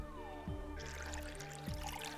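Water pours in the Bulb Boy video game, a faint, short splashy trickle with two bubbly swoops over quiet game music.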